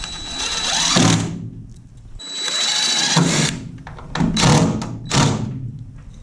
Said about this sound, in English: I put 5 screws in this one as well, and you try to hit the thick part of the plywood.